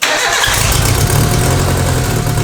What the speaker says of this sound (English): The first issue I'm going to demonstrate to you guys is the massive misfire that it's having.